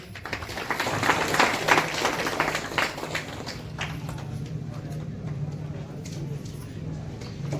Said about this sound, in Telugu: అందరూ కూడా చప్పట్లు కొట్టండి